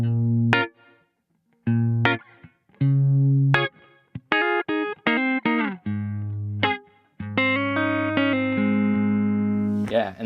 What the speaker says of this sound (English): So I've got a little reverb on it that kind of just slaps on for a little bit.